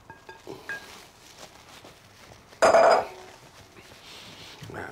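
Dry ingredients stirred into wet cake batter in a bowl: soft scraping and patter, then a sharp clatter of the spoon against the bowl, with quieter stirring afterward.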